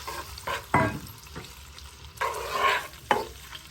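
Squid fries in a little oil in a pan, bursts of crackling sizzle and spatter rising and falling, with a couple of sharp utensil knocks, close and without talk.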